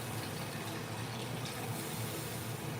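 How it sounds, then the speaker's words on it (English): Real drinking wine pours steadily into a cooking pot for braised beef, a continuous splashing liquid stream running without a break, close and fairly loud, with no talking over it. "We're going to pour the wine in."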